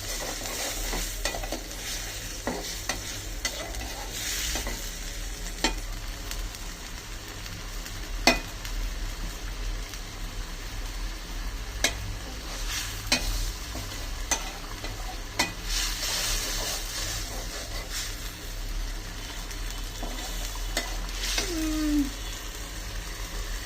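Dried chillies and spices being sautéed in a pan, with a steady sizzle and frequent scraping and tapping of a spatula, close and continuous throughout, with no voices.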